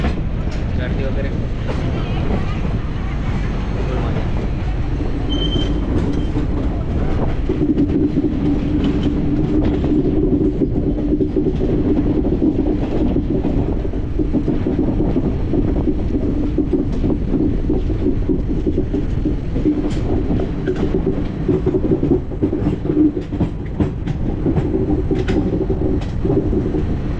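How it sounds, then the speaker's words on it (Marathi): An Indian Railway passenger train on the Mumbai to Kolkata route rounds a curve, its loud, steady rumble and rhythmic clickety-clack heard from on board, with faint voices mixed into the continuous din. "पूर्ण ट्रेन बघा वळण घेते आहे ना अख्खी"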